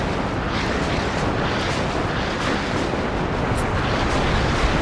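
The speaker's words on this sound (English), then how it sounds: "That is certainly some rocket artillery." Rocket artillery in the WARNO war game sets off a dense, continuous roar of rumbling blasts that stays loud and steady throughout, with no clearly separate shots.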